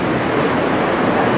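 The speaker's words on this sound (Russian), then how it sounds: "А в 5 метрах справа плещется море." Sea waves splash on the shore of Goa, India, a loud, continuous broadband wash of surf close to the microphone with no pauses.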